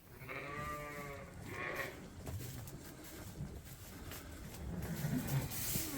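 Suffolk ewe bleating on a lambing farm, a couple of close, wavering calls early on, followed by quieter shuffling and low background noise.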